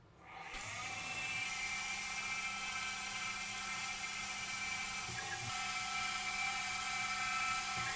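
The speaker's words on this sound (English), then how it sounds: "ready for the last operation, which is just the pre-drilling" A CNC machine pre-drills holes in parts for a dock, a steady high-pitched spindle whir starting abruptly and running continuously at moderate distance, stepping slightly louder partway through, with no talk.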